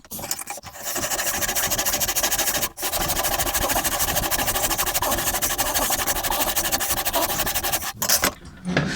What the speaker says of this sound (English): The saw's starting to wander about on this side, so I'm going to actually move over to the other side